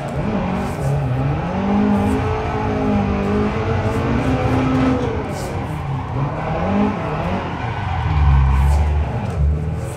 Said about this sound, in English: we're driving a 180 SX